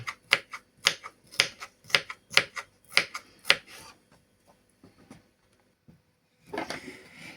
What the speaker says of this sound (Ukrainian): то значить і перець намагаємося порізати дрібною соломкою